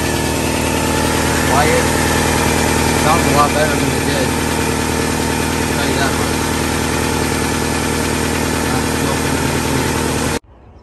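Engine of a 1997 Toyota Camry idles steadily after sitting four years, a loud, even mechanical drone that runs unbroken and then cuts off abruptly near the end.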